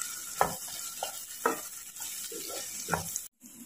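A spinach dish seasoned with salt and turmeric being stirred in a pan, giving several soft scraping strokes at an uneven pace with a faint sizzle underneath, close by, no talking.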